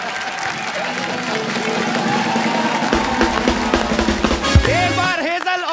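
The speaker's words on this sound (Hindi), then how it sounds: "एक बार हेजल और युवराज के लिए जोरदार तालियां।" Studio audience applause on a comedy talk show, broad clapping with some crowd noise over music, fairly loud and continuous, with a swell of musical sounds toward the end.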